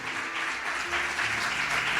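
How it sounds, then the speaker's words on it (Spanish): A church congregation applauds with a dense, steady wash of clapping that holds evenly from start to finish. "Dele un aplauso al Rey si así lo desea."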